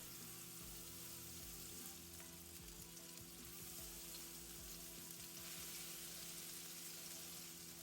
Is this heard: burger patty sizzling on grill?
yes